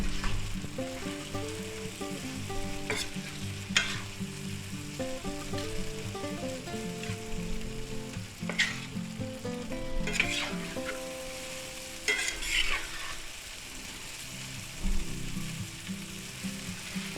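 Pork loin strips stir-fried in a pan for lo mein, with a continuous close sizzle, intermittent scraping and clattering from stirring, and occasional sharper crackles.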